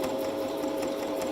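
Sewing machine top stitching a bag runs in a steady, even whir with a fast rhythmic needle chatter, close and continuous, with no voices.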